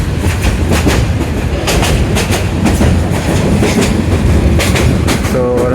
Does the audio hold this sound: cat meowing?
no